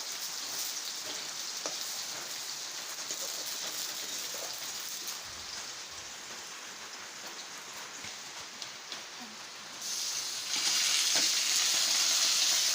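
Chicken frying in a pan, a steady close sizzle and crackle throughout that swells louder near the end, with no talk.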